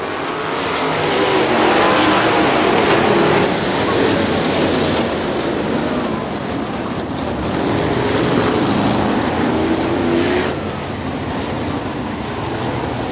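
A pack of 410 sprint cars races in heavy traffic on a dirt oval at Butler Battlegrounds in Quincy, Michigan, a loud, continuous engine roar that swells and fades as the cars sweep past.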